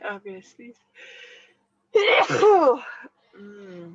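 A single sharp, loud sneeze bursts out in the middle of a quiet indoor conversation, with a person speaking briefly before and after it.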